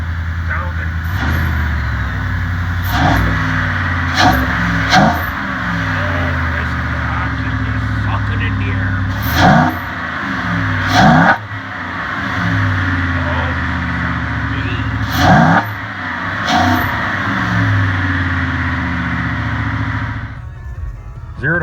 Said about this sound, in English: she's got the MBRP race exhaust on her, and she's got the cold air intake